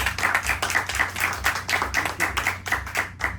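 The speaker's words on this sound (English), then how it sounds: "let's give Lily another round of applause" Small audience at a live poetry reading clapping for a poet, a close, rhythmic run of individual claps at a quick, even pace, fairly sparse rather than a full roar.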